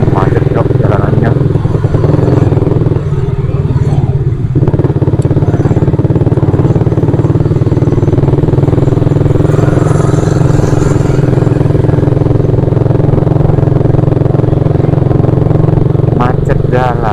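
Congested road traffic packed with motorcycles, a loud continuous drone of idling and rumbling mid-size engines close by, with occasional clatter and revving rising from the steady mass of noise throughout.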